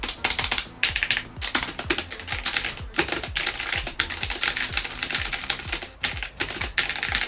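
Rapid mechanical keyboard clicking, many crisp keystrokes in quick uneven bursts, close and steady throughout with no talking.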